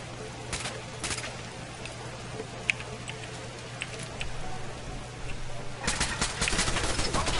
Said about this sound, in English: hearing a gun turret? Two of them.